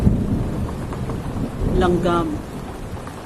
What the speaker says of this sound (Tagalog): At lumakas pa rin ang pagbuhos ng ulan.